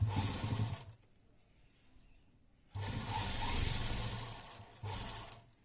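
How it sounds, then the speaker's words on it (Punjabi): A sewing machine stitching double seams on cloth runs in two bursts of steady mechanical whirring, separated by a quiet pause, close to the microphone. "ਹੁਣ ਆਪਾਂ ਡਬਲ ਸਿਆਣ ਲਾਉਣੀ ਹੈ ਇਹਨਾਂ ਤੇ"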